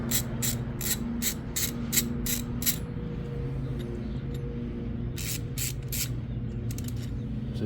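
A ratchet wrench clicks in two quick bursts of rapid strokes while top bolts come out of a Yamaha 1100 Classic motorcycle during a clutch job, heard close up over a steady low hum.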